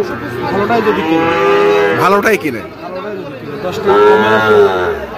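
Cattle at a Chittagong livestock market low loudly and close by in long, drawn-out moos, one after another, with someone speaking briefly over them.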